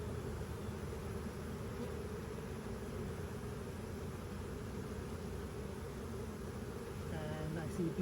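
Honeybees buzzing over an open hive frame during a field inspection, a steady close drone that runs throughout, with a soft voice near the end.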